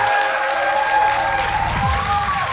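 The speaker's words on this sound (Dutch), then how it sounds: "Geef maar een applaus, dames en heren." Studio audience applause at a Dutch student quiz show in Maastricht, a dense steady burst of clapping close and loud for a couple of seconds.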